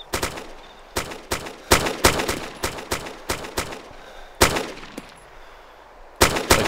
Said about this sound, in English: Shooting him, guys, shooting him.